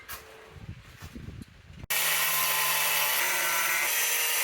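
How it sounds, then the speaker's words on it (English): An angle grinder fitted with a cutoff wheel cuts into metal for a DIY 2x72 belt sander build. Some handling knocks come first, then the grinder abruptly starts a loud, steady, close high whine that continues to the end. "I'm going to use an angle grinder with a cutoff wheel just to cut this flat in here"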